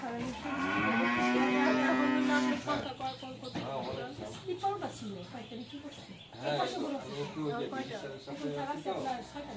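A long, loud cow moo opens the clip, followed by a person talking over low farm background noise.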